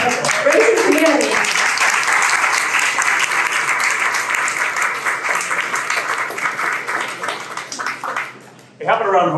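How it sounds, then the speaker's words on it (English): A large audience applauds steadily for several seconds, dense clapping that fades briefly before a voice starts over the tail. "how about a round of applause for all our speakers tonight?"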